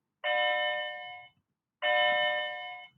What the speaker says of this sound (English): sorry, there was a bell.